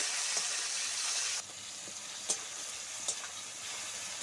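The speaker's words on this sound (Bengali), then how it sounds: "টমেটো কুচি হালকা করে ভেজে নেব।" Chopped tomato fries in oil over a whole-cumin tempering for a jackfruit and prawn curry. A bright, loud sizzle drops abruptly to a softer hiss, with occasional light stirring taps.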